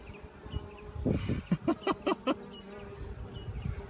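Small honeybee swarm being scooped at an old head gate on a post, giving a soft steady buzz with a run of louder, evenly spaced bursts in the middle, close by and with no talk.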